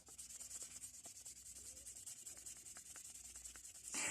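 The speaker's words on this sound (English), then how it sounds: "the difference in a couple of minutes that the sandpaper makes" Fine sandpaper rubbing over a dirty, scratched and dented screwdriver, a quiet hissing scrape repeated in quick regular back-and-forth strokes, close up and alone.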